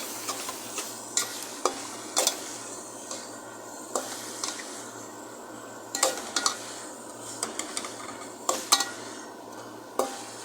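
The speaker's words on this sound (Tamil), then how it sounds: "தக்காளியும் போட்டாச்சு அதையும் கொஞ்சம் கிண்டி விடலாம்" Tomatoes frying in a pan for beetroot curry, stirred with a metal spoon: intermittent scrapes and taps against the pan over a soft background sizzle and a low constant hum, close by.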